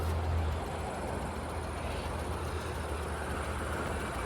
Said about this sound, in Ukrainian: Подивіться, як працює двигун ним не трасе, нічого